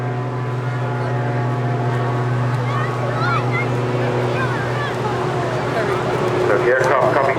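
A Jet Pitts S2S aerobatic aircraft at an airshow on the English Riviera passes with an unusual engine note, a loud, steady droning whine with layered tones, while a commentator talks over it.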